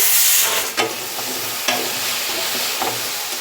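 Potatoes with turmeric fry in a pan, giving a steady close sizzle with a few sharp stirring clicks and scrapes scattered through it.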